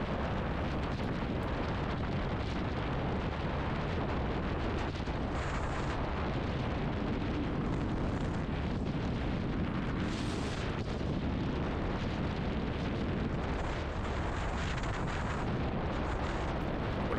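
A Kawasaki W800 Cafe motorcycle rides at highway speed, its engine drone steady and loud, heavily mixed with constant wind buffeting throughout.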